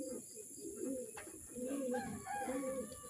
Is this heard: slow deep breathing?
no